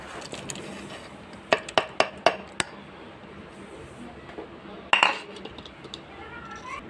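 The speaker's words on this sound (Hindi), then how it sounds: "अपने तरबूज डालूँगी।" Chunks of watermelon dropped into a steel pot of sharbat make a quick row of five sharp clinks, then a louder clattering knock after a pause, with quiet kitchen noise between.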